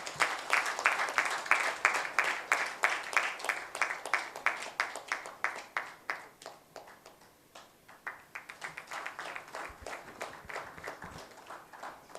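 A conference audience gives a round of applause: strong clapping that thins and dips briefly partway through, then picks up again at a moderate level, heard at some distance in a hall.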